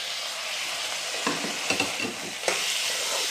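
Chopped tomatoes hit browned onions frying in a pan for dal fry, making a loud, steady close sizzle broken by a few scraping stirs of a spoon.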